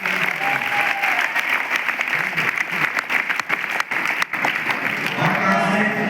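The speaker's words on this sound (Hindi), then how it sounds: "चेन्नई वालों के लिए जोरदार तालियां" Loud, sustained applause fills a training-session hall as the audience claps for attendees from Chennai, a dense wash of hands that holds steady for the whole stretch with brief dips.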